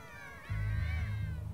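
A cat meows in the Gravity Rush video game, a single drawn-out wavering cry over a low rumbling background, moderately loud and close.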